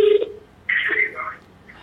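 A phone dialing a call during a prank call to a friend: a short tone sounds at the start, then a voice is heard after a brief pause.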